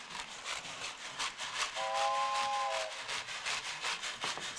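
A special train in a community theatre staging of Around the World in 80 Days: a rhythmic chugging, rubbing sound with a brief steam whistle in the middle, moderately loud with no talk.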